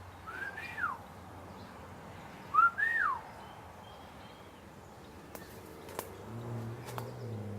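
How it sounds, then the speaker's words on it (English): Two sliding whistle calls ring out in evening woods during a Bigfoot investigation hike, each a rising-then-falling sweep a couple of seconds apart, moderately close, followed by quiet forest ambience and a few faint knocks. "Do you guys have compatible whistles?"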